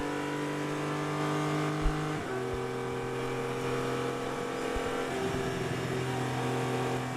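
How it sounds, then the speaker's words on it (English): Race cars at the Atlanta SpeedTour vintage and IGT feature races, a sustained engine drone with a shifting pitch after a gear change, moderately close and heard alone without talk. "There's that Scott Graham car"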